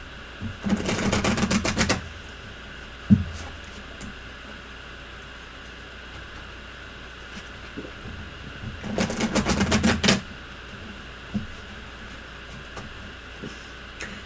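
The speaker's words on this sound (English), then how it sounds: "I like when I'm shuffling the cards here, ruffling them." Tarot cards riffle-shuffled close up, with two separate bursts of rapid papery fluttering clicks, each lasting about a second or more. Quiet room tone fills the pause between them.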